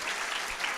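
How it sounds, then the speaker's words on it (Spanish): A church congregation claps together in a dense, continuous burst of applause, steady and fairly loud for the whole short moment, with no voices standing out. "Dale un aplauso al Señor."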